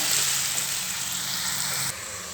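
Ridge gourd pieces fry steadily in a pan on a stove, a continuous close sizzle that drops slightly in level near the end.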